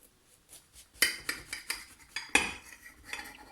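Metal knife, heated beforehand, slicing through a soft, moist sugar-free cake: a series of sharp clinks and scrapes against a plate or pan, close and fairly quiet, with no talking.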